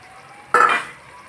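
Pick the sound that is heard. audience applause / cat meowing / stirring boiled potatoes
stirring boiled potatoes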